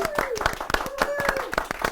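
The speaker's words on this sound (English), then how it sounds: "Let's give them a round of applause." Classroom clapping for a kindergarten class, a short round of sharp, rhythmic hand claps that are fairly close and distinct, with voices sounding alongside them.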